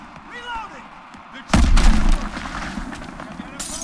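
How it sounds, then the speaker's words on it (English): A sudden loud burst of gunfire booms out in Call of Duty WWII, followed by echoing rumble and scattered sharp cracks, with a brief voice before it. "Gunfire this way!"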